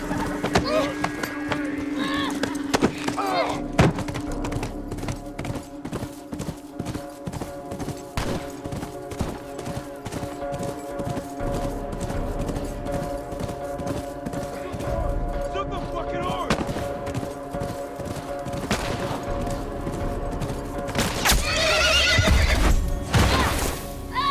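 During a horse chase in The Last of Us video game, a horse gallops with rapid hoofbeats and neighs loudly several times, with bursts of gunfire and some voices mixed in.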